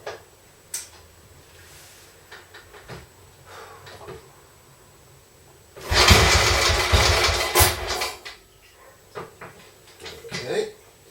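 A Royal Enfield Bullet 350 Classic single-cylinder engine, freshly honed and re-ringed, kicks and catches in a loud burst of a few seconds after quiet clicks and handling noises, then drops back to scattered knocks.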